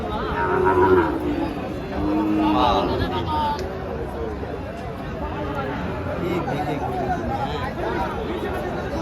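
Nepali Gir breed bull calves at a cattle market, lowing moos rising over a noisy crowd of chattering people.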